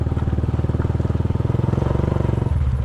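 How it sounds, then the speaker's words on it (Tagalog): A motorcycle engine runs steadily nearby, its loud, rapid, even firing pulses chugging throughout without any voices. "Napainit ko naman na kanina yung makina niya"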